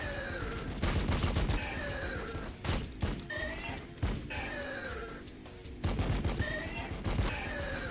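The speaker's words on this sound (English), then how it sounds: "It's just the heavy bolter on the land speeders." Heavy bolter fire from land speeders in Warhammer 40K Battlesector, heard as several loud rapid bursts of automatic shots separated by short pauses, with game sound effects layered between the volleys.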